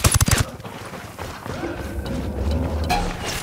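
Gunfire in Ghost Recon Wildlands: a rapid burst of loud, close shots opens the moment, followed by scattered fainter shots and thuds over a rumbling background.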